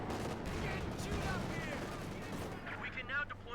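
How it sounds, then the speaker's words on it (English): Panther IV tank cannon and battlefield gunfire in Company of Heroes 2, dense continuous shooting and blasts filling the scene while a voice commentates over it. "Panther 4 shoots."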